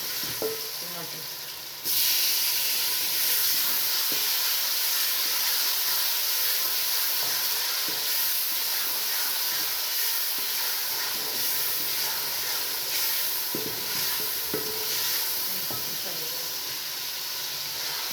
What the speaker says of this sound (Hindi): डालते हैं टमाटर।